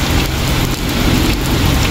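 Heavy rain pouring steadily during an outdoor tilak wedding ceremony, a dense, loud, unbroken hiss of drops striking surfaces nearby.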